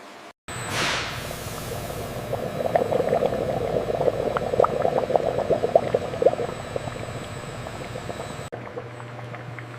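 Sugar syrup boils inside factory evaporators, a dense, continuous bubbling and churning that holds steady for several seconds at moderate loudness, with no voices.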